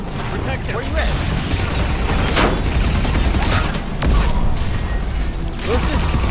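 Rapid gunfire and impact bursts in the video game Mass Effect 3, loud and continuous through a chaotic firefight, with people talking over the shooting.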